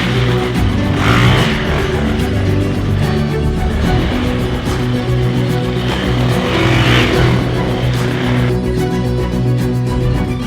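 A 2023 Husqvarna FE350S dual sport dirt bike is ridden on dirt trails through tall mountains, its engine droning loud and close with steady revving and rising and falling throttle.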